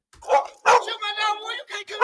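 A dog barks in a few sharp bursts nearby during a tense street confrontation with police, with people shouting over the barking.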